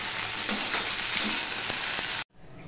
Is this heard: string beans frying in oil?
yes